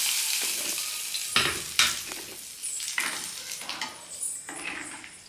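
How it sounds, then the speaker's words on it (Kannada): A hot sizzling tempering poured into buttermilk sambar crackles and hisses loudly, with several sharp bursts as the spitting oil meets the liquid and a few light clinks of a pot and spoon. "ನಾನು ಮಾಡ್ಕೊಂಡಿರೋಂಥ ಮಜ್ಜಿಗೆ ಸಾರಿಗೆ ಈ ಒಗ್ಗರಣೆನ ಹಾಕ್ತಾ ಇದ್ದೀನಿ"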